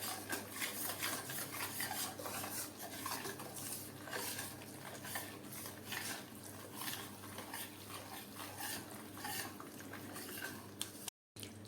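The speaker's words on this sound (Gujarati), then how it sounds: "લોથી મીડિયમ ફ્લેમ પર લોટને આપણે આ રીતે ચલાવતા જવાનું છે અને શેકતા જવાનું છે" A spoon keeps stirring and scraping wheat flour as it roasts in ghee in a pan over a low to medium flame, making continuous close scraping and clinking strokes against the metal with a soft frying hiss beneath.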